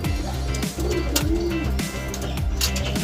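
Kolong pigeons cooing up close in repeated low, soft, throaty coos, with several birds overlapping against a steady background of rustling and chatter.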